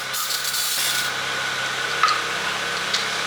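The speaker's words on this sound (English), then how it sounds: "The original reservoir, I have to clean it out." A BMW 335xi's original coolant reservoir is scrubbed clean inside with a steady, close rubbing and scraping hiss, broken by a couple of faint clicks, and no voices.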